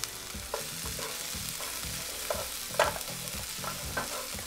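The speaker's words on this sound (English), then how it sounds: "I've got the garlic, onions, and red chili peppers on high heat" Garlic, onion and red chili peppers stir-fry over high heat, a busy sizzle broken by rhythmic scraping strokes of a spatula about twice a second, close and clear with no voices.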